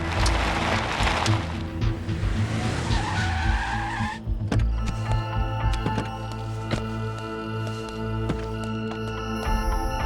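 A car pulls over to the side of the road in a Hindi-dubbed South Indian action movie, with a screeching tire skid that cuts off abruptly, followed by a low engine idle under a dramatic music score.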